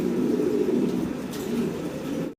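Fancy pigeons cooing in a loft, a soft low continuous cooing murmur from several nearby birds with no talk over it.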